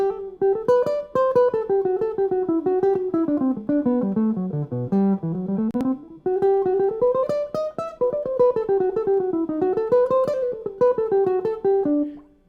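A guitar is picked rapidly with a pointed stubby pick in a quick, even stream of notes that climb and fall in a melody, bright and close, with a brief pause midway.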